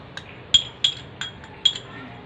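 Spoon or utensil clinks against a bowl while yogurt goes onto chicken for a village-style dish: about five sharp, bright taps spaced unevenly over two seconds, close and fairly loud.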